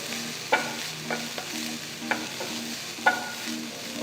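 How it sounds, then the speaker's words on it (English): Capsicum, carrot and beans sauteing in a pan, a steady sizzle broken by regular metallic clicks and scrapes of a spatula stirring, close and without talk. "saute the vegetables for about 5 minutes"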